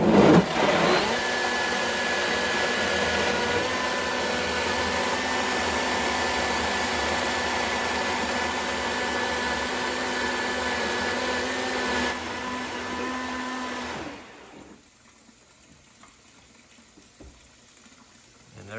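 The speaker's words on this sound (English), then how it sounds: "now you're putting them in the blender" A Blendtec blender runs steadily on cooked apples, turning them into applesauce, with a loud, sustained motor whir close by for about fourteen seconds before it cuts off to near quiet.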